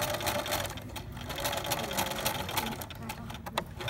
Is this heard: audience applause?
no